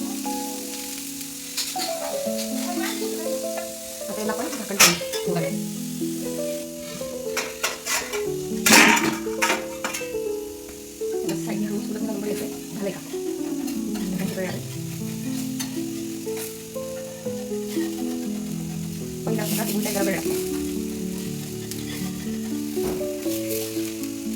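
Cooking oil sizzles steadily in a pan at a village home kitchen, with frequent metallic clinks and scrapes of a utensil against the pan over a continuous hiss.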